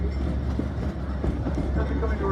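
A Georgetown Loop railroad train rumbles steadily with low clattering as it rolls into the station, a continuous close mechanical drone with faint voices mixed underneath.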